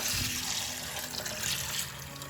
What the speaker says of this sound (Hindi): तो अब हम साबूदाने को पानी से धोएंगे।